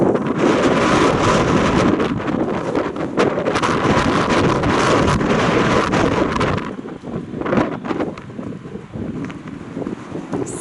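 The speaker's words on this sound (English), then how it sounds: "Very windy." Strong wind on Harry's Beach buffets the microphone in a loud, roaring rush that eases slightly after several seconds but keeps gusting to the end, with no voices.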